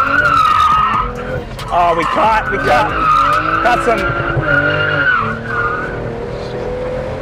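BMW G22 M440i drifting on a half-wet track, tires squealing and skidding in repeated bursts over a loud engine, with a brief exclamation from someone in the car.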